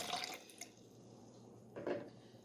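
Water runs into a blender jar at the start of an oatmeal berry smoothie, a soft close splash and trickle, with a brief second pour near the end.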